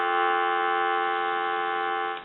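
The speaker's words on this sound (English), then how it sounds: "We want to give you some dial tone" Steady, even dial tone from an A&E three-slot payphone drones on its own, loud and unbroken, before cutting off at the end.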